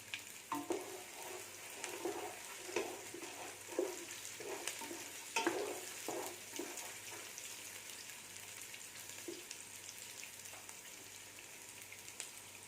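Broken dried red chillies frying in oil with sautéed onions for a mutton chops gravy, a soft, fairly quiet sizzle with periodic scraping stirs at a steady rhythm, no voices.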